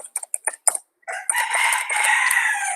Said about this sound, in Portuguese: Gente, vocês estão ouvindo o galo aí?